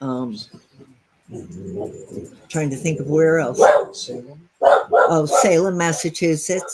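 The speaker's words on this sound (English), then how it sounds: "Sorry about my dog." A dog barks in bursts indoors, cutting in under a person's steady talking during an interview.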